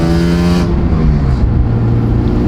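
A loud sports car engine, a BMW, revs up close, pitch climbing as it accelerates hard, then settling into a throaty roar with no voices.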